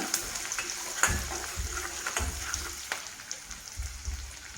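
Onions with salt fry in a pan, giving a steady close sizzle broken by soft stirring scrapes and occasional clinks of a utensil.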